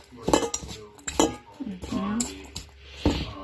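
A spoon or other utensil knocks and clinks against a bowl while spring roll filling is mixed, in several sharp, irregular hits, with a voice murmuring briefly in between.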